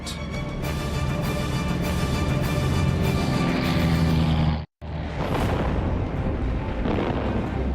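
Loud, dense rumbling blasts from World War II bombing, a continuous roar of explosions that cuts out abruptly to a moment of silence, then resumes with crackling bursts.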